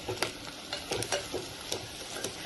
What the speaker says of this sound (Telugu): ఇవి కూడా కొంచెం ఆయిల్లో ఫ్రై అవ్వాలండి పులుసుకి